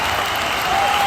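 A round of applause from an audience on a talk show, a steady wash of many hands clapping, even and sustained throughout with no voices over it.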